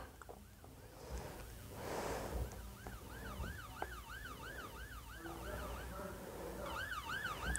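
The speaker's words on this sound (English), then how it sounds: "What is that siren coming from?" Wailing siren inside the Roblox game Brookhaven, rising and falling in a repeated yelp pattern over a faint background, fading briefly then returning strongly near the end.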